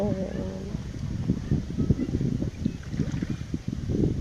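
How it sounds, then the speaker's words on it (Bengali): Wind rushes and water slaps around a boat on a river on a breezy day, a steady low rumble of gusts and choppy waves close by with small knocks throughout. "এই বাতাস ছাড়বো না, বাতাসে খালি ঢেউ বাড়ি খাইবার"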